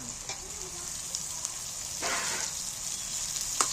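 Vegetables fry softly in a pan as tomatoes and peas go in, making a faint, steady sizzle with a few light clinks and a short louder rustle.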